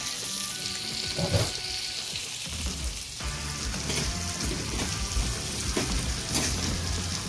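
Blackened Cajun salmon frying in a pan, a loud close sizzle with crackling spatter and a few knocks and shifts as the pan is handled, steady throughout with no talking.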